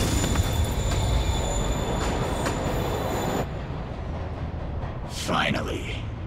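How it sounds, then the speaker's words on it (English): Rumbling train from the Spider-Man PS4 video game moving away, a steady loud roar with squealing wheels and rail noise that drops off partway, with game voices speaking over it. "Train moving. Lee's getting away."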